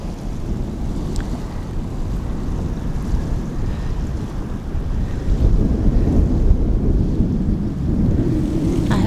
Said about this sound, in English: I hope it's not too windy.